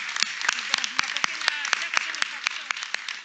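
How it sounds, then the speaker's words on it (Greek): An audience at a Greek women's entrepreneurship network stage performance applauds steadily, dense clapping throughout with a few sharper individual claps, close and loud. "ένα μεγάλο χειροκρότημα σε αυτές τις κυρίες"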